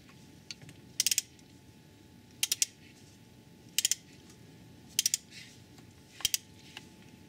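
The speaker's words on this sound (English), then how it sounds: "we'll get a torque wrench onto the nut and crank that up to proper spec as well" A torque wrench ratchets as it tightens the timing belt tensioner nut on a 2.0 TDI engine. It makes quick bursts of two or three crisp clicks, repeated roughly every second and a bit, over a quiet workshop background.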